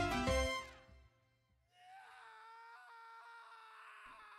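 A scream rings out at the start of the end credits of the video game Pineapple on Pizza, loud and brief, then gives way to quiet tonal credit music.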